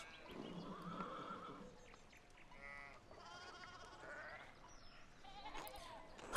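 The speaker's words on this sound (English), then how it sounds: "Who is that on the horse?" A horse neighs in the medieval video game Pentiment, with a few whinnying calls and soft snorts over faint background sound and no speech.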